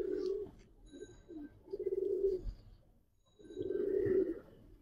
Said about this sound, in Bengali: এক জোড়া তাম্বালাল কবুতর ভাই